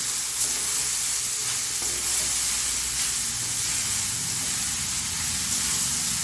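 Banana flower puttu being stirred and mixed in a hot pan, with a constant close sizzle and a soft steamy hiss under the repeated scraping of a spoon. No one talks.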